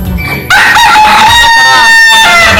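A loud free-range village chicken right at the microphone gives drawn-out, rising clucking calls after a brief rustle.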